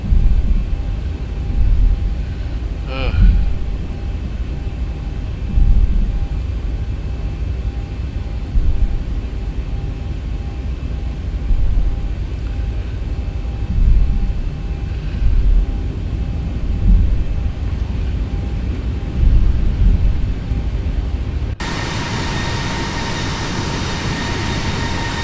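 Zibo Boeing 737-800 in the X-Plane flight simulator, taxiing: a steady low engine rumble that fills the whole stretch, with faint soft clicks and a sudden shift in tone near the end.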